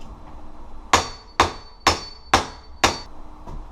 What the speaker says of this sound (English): I'm just going to use a hammer